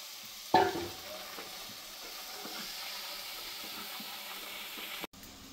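Fried potatoes dropped into a pan of cooked-down spice masala for a Bengali pangas fish curry land with a sudden sizzle burst, then a steady, close frying hiss with light stirring continues alone until an abrupt cut near the end.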